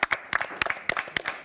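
A studio audience claps for a hypnotist on a live TV show in a short burst of applause. A handful of distinct, uneven hand claps sounds close and fairly sparse.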